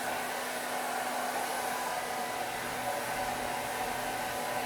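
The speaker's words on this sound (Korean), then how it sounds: "머리를 이렇게 말릴 때" A hair dryer runs steadily and close by as hair is blown dry, a continuous loud whooshing hum with a faint motor tone and no pauses.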